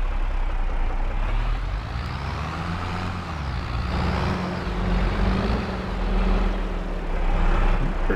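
A large tractor engine in the Farming Simulator 22 video game rumbles steadily at close range, with a low droning idle that swells slightly, heard alone without talk.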